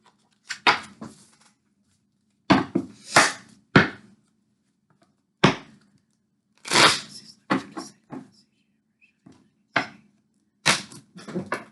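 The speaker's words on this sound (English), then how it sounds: "I'm always trying to shuffle cards that don't want to be shuffled" Cards are shuffled during a card reading in a string of short papery riffles and slaps, close and crisp, with quiet gaps between bursts.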